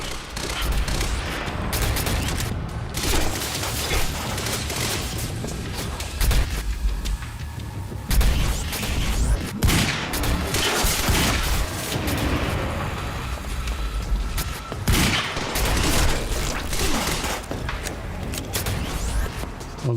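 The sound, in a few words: tactical SMG gunfire in a Remedy video game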